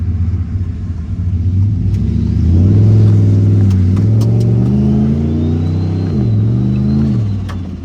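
A Chevy pickup truck fitted with a junkyard-parts hydroboost brake conversion drives along, its engine rumbling up and down through several revs and gear changes, close and loud, with no talking.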